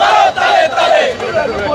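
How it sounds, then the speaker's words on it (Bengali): A crowd of protesters chants slogans loudly at a street demonstration, many voices rising and falling together in a close, rhythmic roar. "সহ বিভিন্ন স্লোগান দিচ্ছে।"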